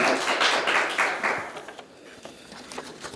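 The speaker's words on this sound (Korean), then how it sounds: "큰 박수로 모시겠습니다" Applause rings out at a Korean university intellectual-property thesis competition award ceremony, dense clapping loud for the first second and a half, then thinning to scattered claps as the hall quiets.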